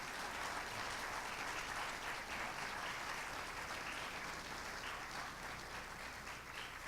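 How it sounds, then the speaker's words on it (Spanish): An audience at a lecture on the constitutional evolution of Puerto Rico applauds its guests with steady, even clapping heard from some distance and held at a constant level throughout. "Un aplauso muy fuerte para nuestros invitados."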